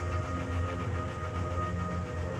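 In an urban rail yard in Winnipeg, a train rolls past with a steady, dense rumble and clatter of railcars that holds constant throughout, close and fairly loud with no pauses.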